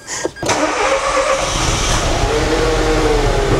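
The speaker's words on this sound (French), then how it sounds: "Ok, donc la bagnole est démarrée." A car bought from a scrapyard cranks with a brief sharp starter burst, then catches and settles into a loud, steady, low idle that runs on close to the microphone.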